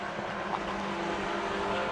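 Race cars at the Brands Hatch circuit during a summer race weekend. A continuous loud engine roar holds steady throughout, with no talking.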